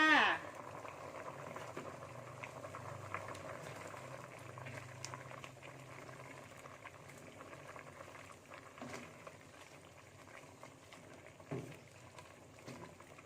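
Green curry made with coconut milk and pork neck simmers in a pot with fingerroot, sliced chilies and kaffir lime leaves added, giving a soft continuous bubbling boil up close, faint and steady, with a few small clinks.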